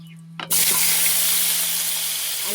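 Potatoes dropped into hot fish oil burst into a loud, continuous sizzle after a brief clatter, the frying hiss holding steady and close for the rest of the moment.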